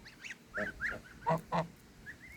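A farmyard gander honks in a short series of about five nasal, close calls, spaced unevenly over a quiet background.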